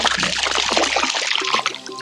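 Pool stain remover poured from a bottle into an above-ground pool liner's water while walking along the edge, a steady close splashing trickle that runs continuously before thinning out toward the end.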